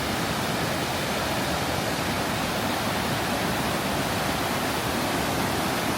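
Blue water of a waterfall at Twin Falls, Idaho pours from the edge of a cliff, giving a steady, dense broadband roar with no pauses and no voices.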